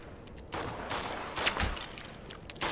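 A burst of gunfire in the James Bond 007: Blood Stone video game, with several sharp shots cracking over a busy background, fairly faint overall.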